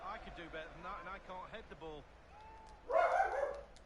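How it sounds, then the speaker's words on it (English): Dog barking inside a house, a short burst of loud, close barks near the end, following a stretch of someone talking over video game football commentary. "Sorry about the dog."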